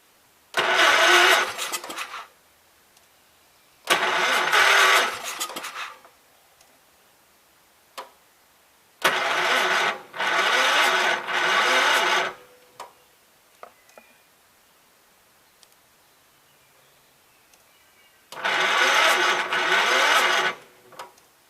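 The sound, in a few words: Gravely 5665 tractor engine cranking on a weak battery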